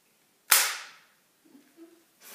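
A Nerf gun fires one sharp, close snap followed by a short fading whoosh, then faint rattling, and a second soft burst of noise comes at the very end.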